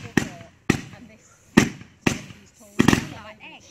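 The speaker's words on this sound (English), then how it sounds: "going to watch fireworks" Five sharp fireworks bangs burst at irregular intervals, each a loud crack followed by a short fading echo, fairly close by.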